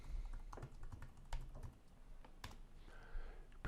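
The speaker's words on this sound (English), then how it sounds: "I'm using my computer keyboard to start and stop the playback of clips" Computer keyboard keys click in scattered, irregular taps, faint and close by, with music playback starting and stopping softly underneath.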